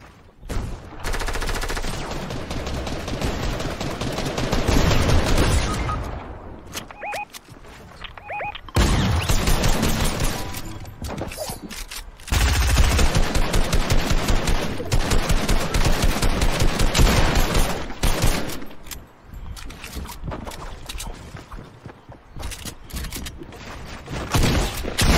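Rapid bursts of gunfire from the Fortnite video game, including pump shotgun blasts, crack loudly and repeatedly in dense volleys with brief lulls across the whole stretch.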